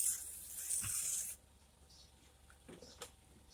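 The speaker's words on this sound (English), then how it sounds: "Spray it on there generously." Spray bottle misting soapy water onto a tire during a plug repair, a close, steady hiss lasting over a second before stopping, followed by faint handling sounds.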